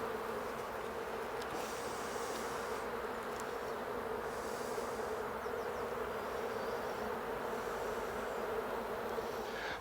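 A honeybee colony that spent the winter under-supered hums with a dense, steady buzz throughout a spring hive inspection, close and continuous with no talking.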